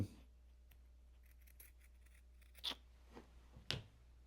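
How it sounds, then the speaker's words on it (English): A few faint, sharp snips of scissors cutting fabric, spaced apart over a low steady hum, with no talking. "now you can just take a pair of scissors, or you can use your rotary cutters"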